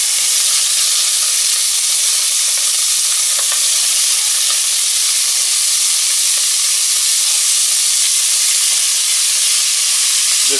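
Partly frozen beef browning in smoking-hot oil: a loud, steady sizzle and hiss that keeps going without a break, close and unbroken by talk.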